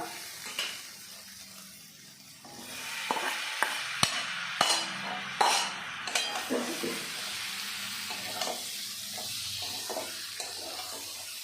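Potatoes and pre-fried beans sizzle softly in a pan while a spoon stirs and scrapes them, giving scattered clicks and taps over a steady low hiss.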